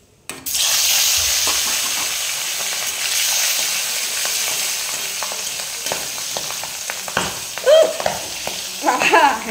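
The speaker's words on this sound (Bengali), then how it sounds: "তেলটা গরম হয়ে গেছে, মাছগুলো ভেজে নেব।" Singhi fish fry in hot oil with a sudden loud burst of sizzling that settles into a steady hiss, broken near the end by a few sharp spits and pops.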